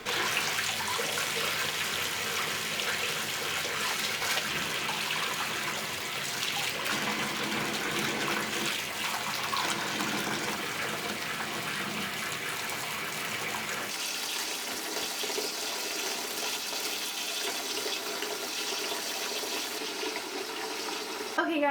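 Water runs steadily from a tap into a bathtub filling for a bubble bath with a bubble bar, a continuous gushing hiss lasting throughout, fairly loud and close, with a slight shift in tone partway through.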